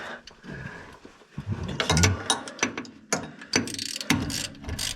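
Ratchet wrench tightening bolts under a 1939 Chevrolet, with bursts of quick, close clicking strokes repeated in several short runs.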